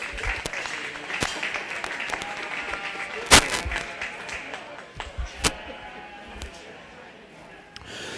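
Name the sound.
audience applause at a sheep show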